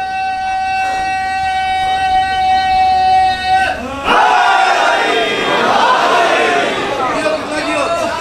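At a majlis in an imambargah, a large crowd bursts into a loud, roaring chant and cheer after a sustained tonal phrase. The mass of voices swells and fills the hall for several seconds.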